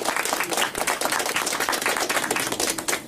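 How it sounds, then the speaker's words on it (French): Crowd at an outdoor charity support walk clapping in a quick, even patter of many hands, moderately loud and continuous for a few seconds, with no voices over it. "Donc on peut les applaudir"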